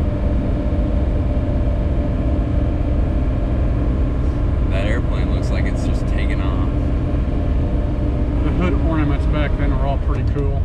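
A loud 1954 Ford Customline engine drones steadily from inside the cabin, a constant deep rumble with people talking over it.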